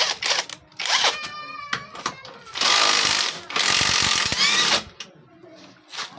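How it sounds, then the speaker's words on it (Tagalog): An impact wrench takes a 14mm bolt off a Honda Click scooter, giving two loud sustained rattling bursts close up, with shorter hits and workshop clatter around them. "gamit tayo ng impact mga boss para mas mabilis"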